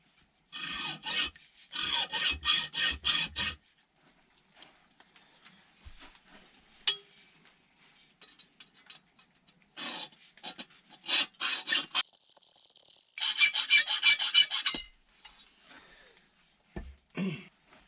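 A hand tool rasps through a turned wooden lamp part in several short, loud bursts of scraping strokes separated by quiet pauses, close by with no talking.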